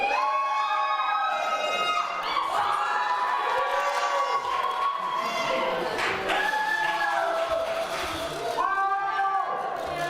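Children cheering and shouting loudly at a Purim celebration, a sustained crowd roar with excited high voices rising and falling across the whole stretch.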